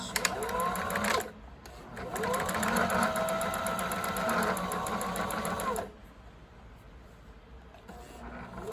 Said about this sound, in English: Now I am going to sew the top edge of it just to make sure it stays going down.